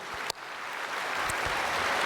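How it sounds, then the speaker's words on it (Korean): Applause from a church congregation during a sermon builds from scattered claps into steady clapping, moderately loud and continuous, with a sharp knock near the start. "우리 이철희 장로님 박수 한번 해주세요"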